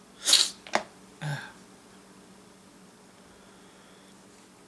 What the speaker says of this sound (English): But I think I'm getting ready to sneeze. There it is.